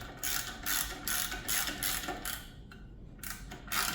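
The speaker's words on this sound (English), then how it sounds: "takes a 5/8 socket and a ratchet" A ratchet with a 5/8 socket turning a fastener on an Alpha One Gen 2 stern drive lower unit, giving several quick bursts of rapid pawl clicking, close and fairly loud, with brief pauses between strokes.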